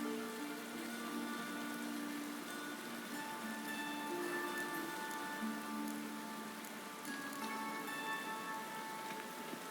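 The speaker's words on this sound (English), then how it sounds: "Rain, I like rain." Rain falls in The Witcher 3, a soft, faint, continuous patter on surfaces with light ticking drops and quiet tonal sounds underneath, with no one speaking.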